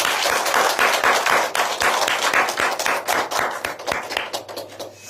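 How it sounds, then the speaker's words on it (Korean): A church congregation clapping together in a steady rhythmic beat during a Sunday service, loud and sustained, with no voices over it. "우리 하나님께 영광의 박수 한 번 더 올려주세요."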